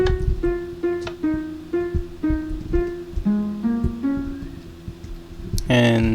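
Minecraft note blocks playing a melody, a sequence of plucked, pitched tones in an uneven rhythm, each note ringing briefly, ending in a brighter burst of notes.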